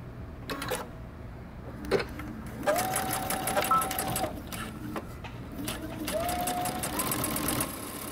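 Sewing machine running along a coat hem with a 1.5 inch allowance, in two or three close bursts of rapid stitching separated by short pauses.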